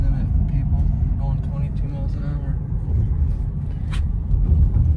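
A car driving slowly on a road around Rochester Hill behind a slow vehicle, a steady low engine and road rumble from inside the cabin, with people talking over it.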